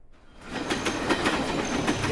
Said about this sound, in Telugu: అదే టైంకి రాలా ట్రైన్.